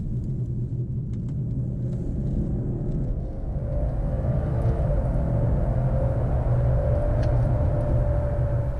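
A 2018 BMW 540i xDrive Touring with an inline-six pulls hard from 30 to 70, its engine note rising steadily over a low road rumble heard from inside the cabin, with no talking.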